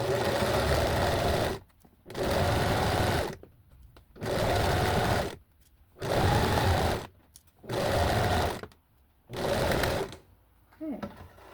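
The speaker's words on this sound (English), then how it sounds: "So I'm not pulling on the fabric as I'm like pulling it through the machine" A sewing machine stitches sweatshirt fabric in six steady, loud bursts of rapid mechanical whirring, each about a second and a half long, separated by short pauses.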